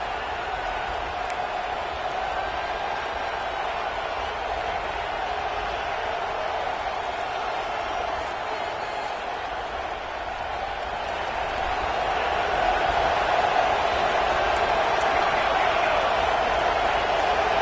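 Stadium crowd in the College Football 26 video game makes a constant, dense roar that swells louder near the end, with no clear voices over it.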